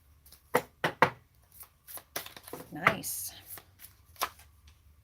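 Tarot cards being shuffled and handled, a series of soft, close riffling and snapping bursts with brief pauses, while a voice speaks a single word partway through.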